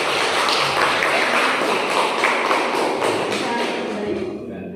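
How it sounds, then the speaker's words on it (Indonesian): A classroom of students breaks into steady, dense applause that stays loud and continuous for several seconds before tapering slightly at the end. "Terima kasih, beri aplaus terlebih dahulu"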